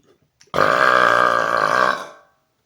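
One long, loud, throaty burp lasting about one and a half seconds, close and alone, measured for volume during a burping record attempt.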